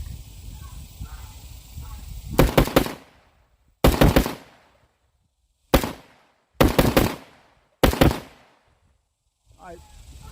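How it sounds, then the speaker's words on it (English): Five loud, close rifle shots ring out downrange on a homestead long gun fitted with a rail-mounted light, each sharp crack followed by a brief echoing tail and spaced by a second or more of quiet. "Let's fire a few rounds downrange and see how well she does."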